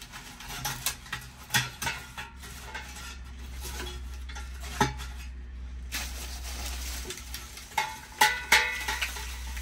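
Chopped dry corn and sunflower stalks tossed into a Boulder biochar burner heating a greenhouse, making repeated clattering knocks and light metallic clinks in uneven bursts over a steady low hum.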